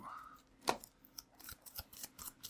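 Magic: The Gathering cards being shuffled, a run of short crisp riffling snaps and slaps in quick irregular bursts, close and fairly quiet.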